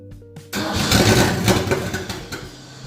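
A Ford Ranchero engine cranks briefly, then catches and fires up into a loud, rough running roar that settles unevenly, close by.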